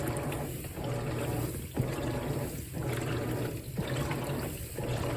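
A Whirlpool WTW4815EW1 top-load washing machine with a single action agitator fills with water, a steady close rushing and splashing stream that rises and dips in regular surges about once a second, with no talking.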